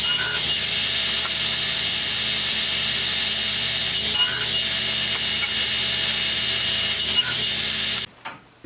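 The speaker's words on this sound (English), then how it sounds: "I'm going to cut out a couple of pieces at 12 inches and a couple of pieces at 9 inches" Continuous sawing of wood pieces cut to length for a canvas painting frame, a steady bright buzzing whine with a few brief surges, running nearly eight seconds before stopping abruptly into quiet.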